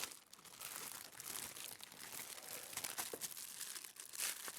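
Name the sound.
crinkling plastic bag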